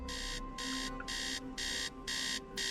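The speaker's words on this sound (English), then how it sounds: "Beep beep, wake up, you idiot. Shut that noise off." Electronic alarm in the Tales of the Neon Sea video game beeping in steady repeated bursts, about six evenly spaced pulses with short gaps, loud and alone over a low background hum.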